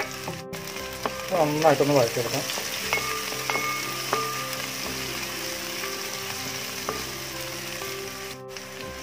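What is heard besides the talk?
shallots frying in hot coconut oil in a kadai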